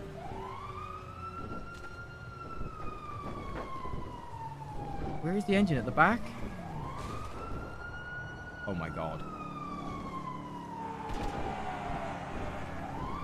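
A police car siren wails in long rising and falling sweeps, fairly close and steady through the whole stretch, while people talk excitedly over it.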